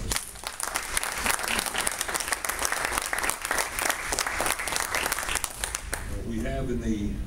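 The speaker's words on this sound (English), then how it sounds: "Give him another round of applause." Guests at a college athletic conference awards banquet give a round of applause, a full burst of clapping that fills most of the moment before a voice starts speaking as it fades near the end.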